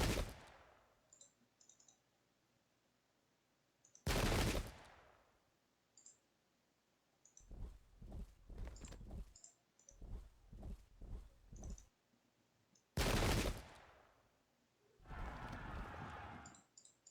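Musket volleys fire in a Pike and Shot Thirty Years War battle, with several loud sharp bursts standing alone and clusters of quicker crackling shots between them.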